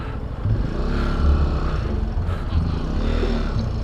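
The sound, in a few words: Benelli TNT135 motorcycle riding off road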